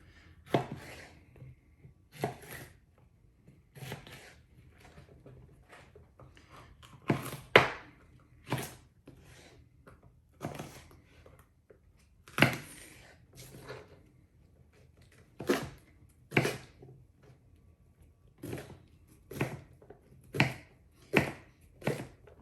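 A knife chops mild chili peppers on a cutting board in a home kitchen, giving sharp, separate thunks at an uneven, unhurried pace, close and clear against a quiet background.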